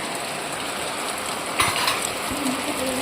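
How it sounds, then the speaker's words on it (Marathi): Heavy rain pours outside as a dense, steady broadband hiss, with a brief louder splash partway through and a faint tone near the end. "बाहेर येतो गाईज भरपूर जोरात पाऊस चालू आहे बघा"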